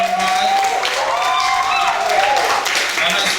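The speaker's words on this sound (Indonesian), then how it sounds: "Mari kita beri tepuk tangan karena sudah memberikan kita begitu manfaat." Students on a factory study tour to the Yakult and Pocari Sweat plants applaud together, a steady rush of clapping held at an even level, with some cheering and voices over it.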